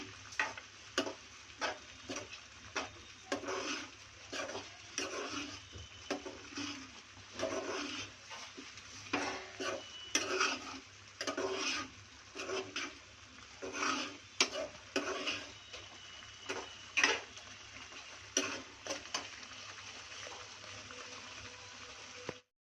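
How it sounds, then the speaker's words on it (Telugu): A spoon stirs turmeric and spices into egg sambar in a pot, making repeated scraping, clinking strokes in an irregular rhythm over a faint simmering hiss, with no talk. "కొద్దిగా పసుపు, అన్నీ వేసి బాగా కలుపుకోవాలి."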